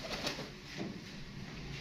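Pigeons in a fancy loft, including a netted-pattern bird, coo softly in low murmuring bursts against a steady background hiss, fairly faint and close by.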